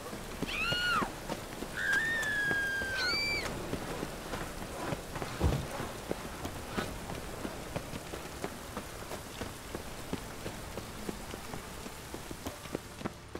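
Steady rain falls in The Witcher 3 game world, a dense hiss broken by scattered footsteps and a few distant bird-like chirps early on, with no talking.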